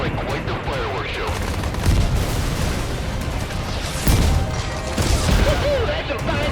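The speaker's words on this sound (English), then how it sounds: "That's some fine shooting, sir!" Video game combat with gunfire and explosions: repeated booming bursts and rattling shots over a dense, noisy background, with warbling electronic tones and some game voice mixed in.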